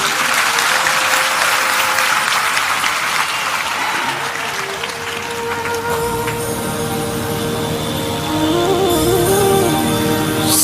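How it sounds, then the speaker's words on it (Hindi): A large audience at a Hindu religious discourse claps steadily and loudly, with dense, continuous applause filling the hall throughout, and a faint voice rising near the end. "आपकी ताली में दम नहीं है।"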